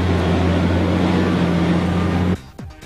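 A Fendt Favorit 900 Vario tractor with a 260 hp engine accelerates at full power, a loud steady droning engine roar with a strong low hum that holds for over two seconds, then cuts away abruptly.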